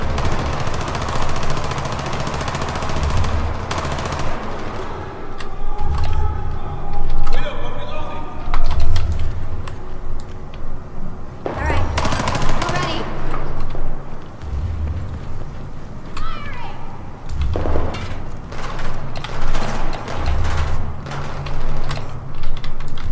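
Gunfire in Battlefield 4, in a Singapore mission, sounds as repeated loud bursts and single shots amid battle noise, under a voice talking over the action.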